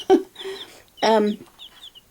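Chickens in a dirty brooder make two short bursts of clucking, each followed by faint, high peeping, heard close by with no talk.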